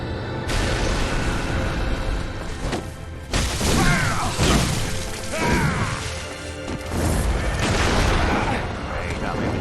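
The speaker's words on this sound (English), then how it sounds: "Oh, and he's exploding." An enemy blowing up in Elden Ring, a loud burst of crashing, booming impacts layered with game effects and a voice talking over it.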